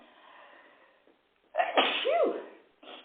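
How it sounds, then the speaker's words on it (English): A single loud sneeze bursts out close by after a brief quiet, followed by a short breathy exhale. "oh, now I have to sneeze"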